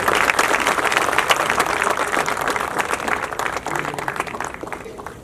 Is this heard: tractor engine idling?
no